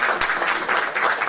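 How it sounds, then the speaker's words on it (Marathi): An audience applauds to welcome dignitaries at an award ceremony, a dense, close burst of clapping that carries evenly to the end. "टाळ्या वाजून आपण मान्यवरांचं स्वागत करूया."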